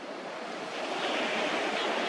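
Waves wash up on a beach at high tide with a continuous broad roar of surf that swells slightly louder midway, heard alone with some wind.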